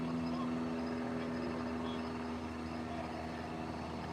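Steady broadband roar of an airplane passing overhead at a glamping site, a continuous loud rumble with a sustained low hum filling the whole span, no talk over it.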